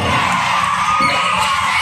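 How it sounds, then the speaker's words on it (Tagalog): A loud, steady roar from a school crowd at a basketball game between BN4 E/S and Pleasant Mont School, with shouts and whoops rising from the continuous cheering. "Nag-iingay ng crowd."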